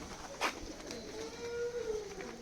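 Giribaj pigeons in a loft coo softly and steadily at close range over a low background hum, with no voices.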